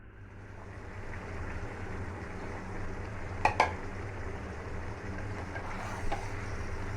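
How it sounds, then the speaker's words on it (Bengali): Chicken meat is stirred in a pan before gourd and papaya go in, a soft continuous sizzle with a couple of sharp metallic scrapes and taps from the spoon, faint and close. "একটু মাংসটা নাড়াচাড়া করে তারপর লাউ আর পেঁপে দিয়ে দিচ্ছি।"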